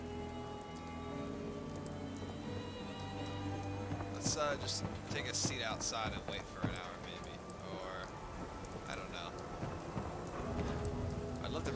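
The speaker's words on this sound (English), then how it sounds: "Still raining. Still kind of miserable out here." Rain pours steadily in Fallout 4 as a constant hiss of drops on surfaces with low rumbling underneath, heard beneath someone talking and footsteps.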